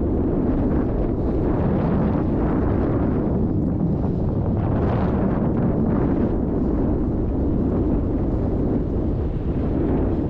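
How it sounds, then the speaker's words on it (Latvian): Strong headwind buffeting a cyclist's microphone while riding, a loud, steady low roar of wind noise with gusty swells that persists throughout and stays unbroken by any talk. "ka vējš pūš tev pretīm."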